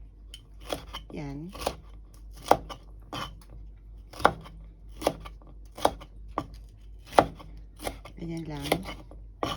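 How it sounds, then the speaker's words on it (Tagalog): A knife slices eggplant on a board for Mabo Nasu in a home kitchen, giving about a dozen crisp, separate cuts in an uneven rhythm, close and clear, while a voice speaks briefly between strokes. "Bahala kayo kung paano nyo siya hihiwain."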